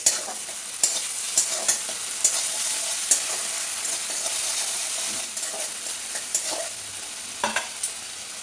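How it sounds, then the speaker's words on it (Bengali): Ginger-garlic paste and spices, with turmeric and chilli powder, stirred and frying in a pan for Bengali fish chops: a steady close sizzle with repeated sharp scraping clicks of the spoon against the pan. "তো সমস্ত মশলা খুব ভালো করে কষে নেব"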